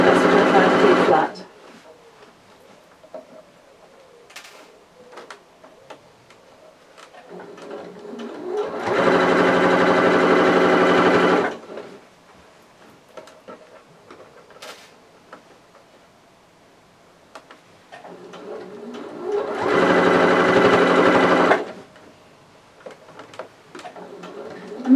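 A sewing machine stitches fabric under the needle in two sustained whirring bursts, each a few seconds long, with quieter stretches of talking and soft ticks between them.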